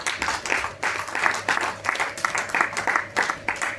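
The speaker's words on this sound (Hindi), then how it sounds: "जोरदार तालियों से अमित जी का स्वागत करें।" An audience in an auditorium at a Buddha Jayanti lecture applauds steadily, dense clapping from many hands with a low background hum, continuous and fairly close.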